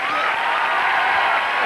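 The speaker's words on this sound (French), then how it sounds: "Merci pour les applaudissements." An audience applauds in a brief, steady burst of dense clapping, with a faint crowd murmur mixed in.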